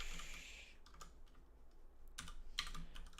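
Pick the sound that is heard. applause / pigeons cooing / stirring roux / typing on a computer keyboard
typing on a computer keyboard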